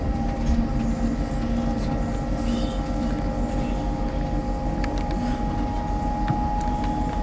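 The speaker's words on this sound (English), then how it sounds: "board this LNER Azuma to London King's Cross." Steady low rumble and hum inside an LNER Azuma train heading to London King's Cross, an even, constant drone with a faint tonal whine and no talk.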